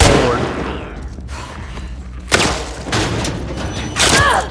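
Hunting rifle gunfire in The Last of Us Part II, with sharp shots at about 2.3 and 4 seconds over a busy game soundscape of rumbling, low thuds.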